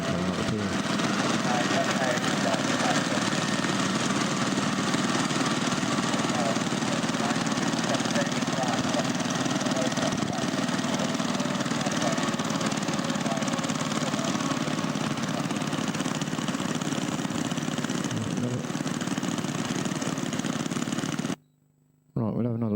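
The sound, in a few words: Simar two-stroke rototiller engine running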